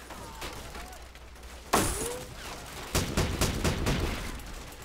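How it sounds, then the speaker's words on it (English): A volley of gunfire in the Vietnam war video game Men of War Vietnam, a sharp burst of shots followed moments later by another rattling barrage of rapid cracks over a noisy battlefield background. "Open fire."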